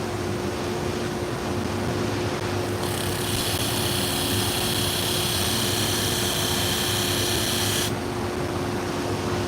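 Sharpening grinder working the outside edge of curved grooming shears, a constant loud motor hum with a bright grinding hiss that enters for about five seconds as the blade makes contact, then stops.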